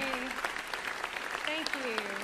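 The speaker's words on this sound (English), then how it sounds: "We want to clap for you" Audience at a band spring concert claps for band boosters, steady applause close by with talking and a cheer over it throughout.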